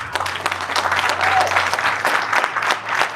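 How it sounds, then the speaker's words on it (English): A crowd applauds steadily for a few seconds, the clapping dense and close, with some voices mixed in. "Guys, learn to clap for others."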